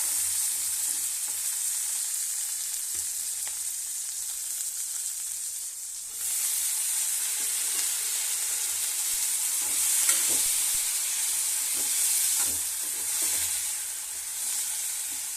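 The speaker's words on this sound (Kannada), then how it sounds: "ನೀರುಳ್ಳಿ ಫ್ರೈ ಮಾಡಿದ್ವಿ. ಹಸಿಮೆಣಸಿನ್ಕಾಯಿ 4 ಹಾಕಿದ್ದೀನಿ ರೀ." Onions with four green chillies frying in a pan, a close, steady crackling sizzle with occasional stirring scrapes, continuous and without talk.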